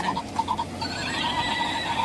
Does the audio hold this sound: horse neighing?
yes